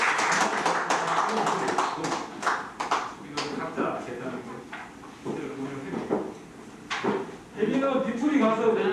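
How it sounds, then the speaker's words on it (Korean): Applause from an audience at a book discussion and Q&A session, scattered claps at the start and through the clip, heard behind and between a man's speech in a room. "힘찬 박수"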